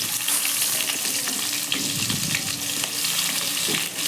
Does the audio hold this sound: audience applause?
no